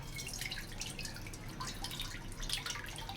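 Tamarind pulp dripping and splattering into a kadhai, a continuous wet pattering with small irregular drips, close and fairly quiet, with no voices.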